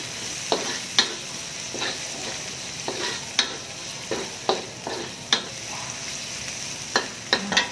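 Onions frying in a hot pan give a steady, bright sizzle, punctuated by sharp scrapes and taps of a stirring utensil at uneven intervals, close and moderately loud.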